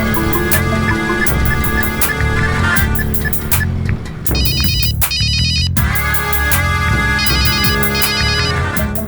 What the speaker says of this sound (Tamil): செல்லம்மாக்கு ஒரு ஃபோன் பண்ணிட்டு போயிடுவோம்.